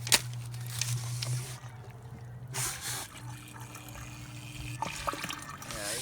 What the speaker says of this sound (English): Here's the pump mechanism back here.